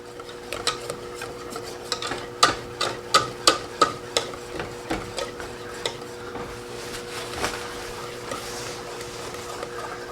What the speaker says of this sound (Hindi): बस आपको इसका चमचा जो है वो चलाते रहना है और ये भी ख्याल करना है कि ये साइड वॉल से ना लगे।